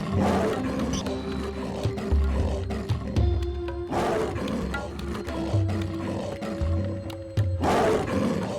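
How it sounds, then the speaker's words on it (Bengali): An animated cartoon tiger attacking a grazing cow in a jungle roars loudly several times, with deep, drawn-out roars spread across the stretch and a narrating voice in between. "হঠাৎ তাকে একটি বাঘ আক্রমণ করল"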